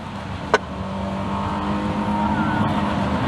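Loud car engine idling steadily on a street, heard from about half a block away, a continuous low rumble with a brief sharp click near the start.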